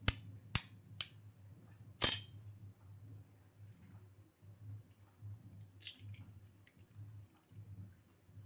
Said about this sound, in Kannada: ಈಗ ಮೊಟ್ಟೆ ಒಂದು ಹಾಕ್ತಾ ಇದ್ದೇವೆ